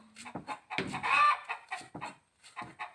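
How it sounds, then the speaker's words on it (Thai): Startled chickens cluck and squawk nearby in quick, agitated bursts with short pauses between them. "ไก่แตกตื่นเลย"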